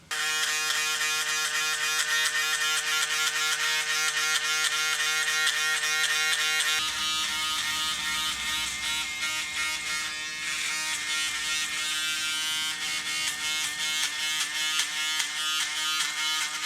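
An electric foil shaver buzzes continuously close by while dabbing into hair during a self-cut fade, a steady high-pitched vibrating hum whose tone shifts partway through as it meets the hair.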